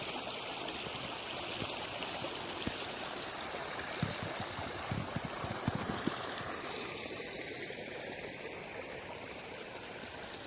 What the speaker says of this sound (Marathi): लय लांबून पाणी आता पाटाला ते तिकडे मोटर धोक्याची